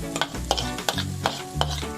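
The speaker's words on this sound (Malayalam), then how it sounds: "ഇത് ഞാൻ ആ ചട്ടിയിലേക്ക് തന്നെ നമ്മുടെ തേങ്ങ ഒന്ന് ഇട്ട് കൊടുക്കുവാണ്." Grated coconut roasting in a pan for avalose podi, with a spatula scraping and stirring in regular strokes over a soft sizzle, close and fairly loud, with no talking.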